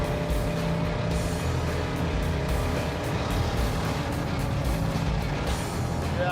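The Super Camaro's engine drones loudly and continuously under load, a dense rumbling roar with road noise, heard from inside the moving car without speech.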